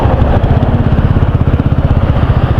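A group of six motorcycles idling together at a roadside stopover, giving a loud, close, steady low chug with a fast regular pulsing throb.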